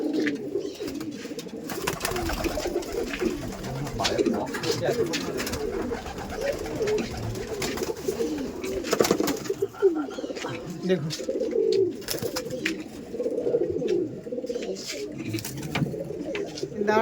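Madrasi pigeons coo steadily in a loft of birds, soft overlapping throaty coos with wing flutters, under ongoing nearby talk.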